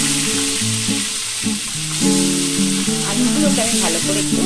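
Potatoes fry in a hot kadai of oil tempered with white cumin, giving a steady, loud, close sizzle with stirring throughout.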